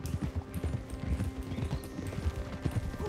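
Horse hooves clip-clopping steadily in the Western video game Red Dead Redemption 2, a continuous close rhythm of hoofbeats with no speech over it.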